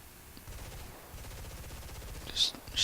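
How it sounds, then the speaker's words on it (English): Guns fire from an F-86A-5 Sabre jet in War Thunder as it rolls out after landing. The bursts come as a fast, low, rattling stutter, fairly quiet, with a brief sharper burst near the end. "Just shooting just to try to stop a little bit faster"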